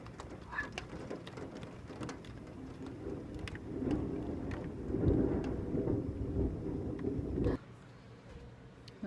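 A nighttime rainstorm with thunder: a faint, distant rumble swells and rolls through the middle under steady rain and soft background sounds, then cuts off abruptly near the end.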